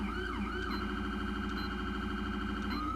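Wailing police siren tone from a police car mod in a video game, loud and continuous with a steady sweeping pitch and a second overlapping tone, running throughout with no talk.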